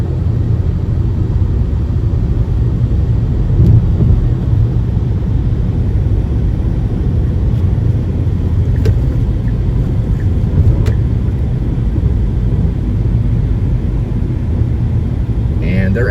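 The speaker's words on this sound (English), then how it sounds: "we've got a plane coming in" A low, steady rumble of a low-flying Navy plane passes overhead near an airport, continuous and fairly loud throughout, with faint background noises mixed in.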